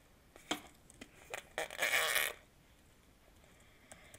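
A voice imitates a Minecraft machine gun turret by buzzing the lips, a few short sputters and then one longer rattling burst, close and fairly quiet.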